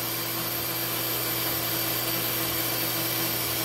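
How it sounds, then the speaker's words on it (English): A drill pre-drills a steel gate hinge clamped in a vise, giving a steady, continuous whirring grind with no pauses. "he's got a hinge in the vise and he's going to pre-drill it"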